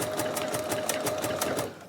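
Sewing machine stitching down raw edge applique, a quick steady mechanical whirr with rhythmic needle clicks, close and continuous before easing off at the end.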